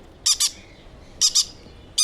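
Three pairs of sharp, shrill squawks from home-bred baby parrots ring out in quick doubles, separated by short quiet gaps, close and fairly loud.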